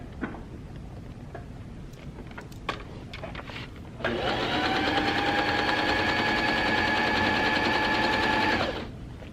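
A sewing machine stitches fabric up close. Faint clicks and handling noises come first, then a steady, even motor whir with rapid needle chatter starts and runs for about five seconds before cutting off.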